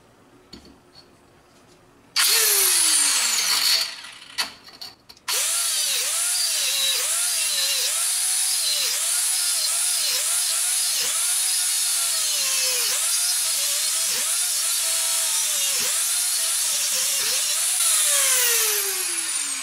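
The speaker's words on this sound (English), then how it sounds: "It's cutting like hot butter, so maybe I've underestimated the Dremel tool there." A Dremel tool with a cutting wheel bites into a steel knife blank, whining loud and high with repeated rising and falling pitch swoops as it strains through the metal, after a short start-stop at the beginning.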